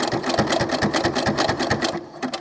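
A sewing machine runs steadily through doll-clothes fabric, with close, rapid, rhythmic needle strokes and a continuous mechanical hum throughout. No voices.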